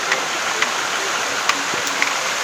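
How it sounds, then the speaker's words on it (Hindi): Water drips inside a cave, a handful of distinct drops landing in an irregular rhythm over a steady wash of trickling water. "गुफा में पानी टपकता रहता है चारों तरफ से, ऊपर से नीचे से सब दूर से पानी टपकता रहता है"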